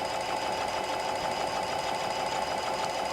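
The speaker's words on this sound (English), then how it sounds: "Then I'm going to drop the foot. And we're just going to stitch down to the edge." A Janome Continental M7 sewing machine runs steadily as it stitches fabric down to the edge, a close, even, continuous whir at constant speed with no voices over it.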